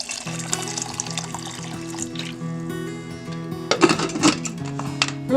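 Water poured into a pressure cooker holding lentils, chopped banana stem, salt and turmeric, a steady close trickle and splash that grows busier near the end over a faint background hum.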